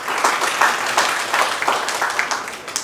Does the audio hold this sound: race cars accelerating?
no